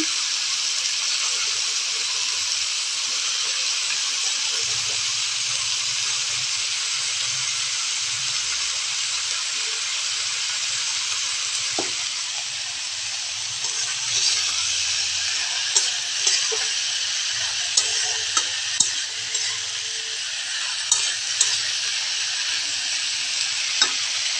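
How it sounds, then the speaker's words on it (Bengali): Spring onion stalks frying in a pan make a continuous close hiss and sizzle, with scattered light clicks and taps of stirring toward the end. "এখন আমি পেঁয়াজ কলিটা দিয়ে দিচ্ছি।"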